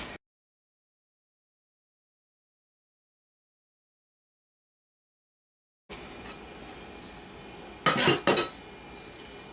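A plate goes over a bowl of Instant Pot monkey bread and the bowl is flipped, giving a couple of close ceramic clinks and knocks after a long silence.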